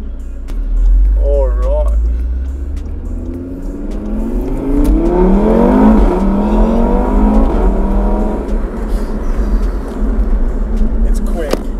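A tuned Stage 3 Audi RS3 on coilovers, around 510 hp, accelerating hard from inside the cabin, its engine note climbing and dropping through gears with a loud, rising growl, while someone speaks briefly over it.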